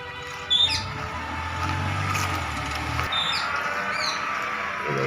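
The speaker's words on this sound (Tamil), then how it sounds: "இந்த பறவைகளோட சத்தம்" Birds call with short, high chirps and squawks near a lake at a tourist spot with boat rides, heard at moderate distance over a steady outdoor hum and a low engine-like rumble.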